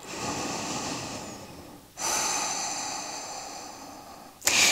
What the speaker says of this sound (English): Breath in there.